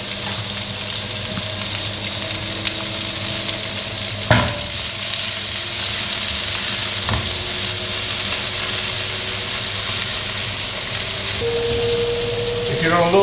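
Fat rendering and frying in a pan with salt for chili con carne, a steady loud sizzle throughout, broken by a few sharp clanks of a utensil against the pan.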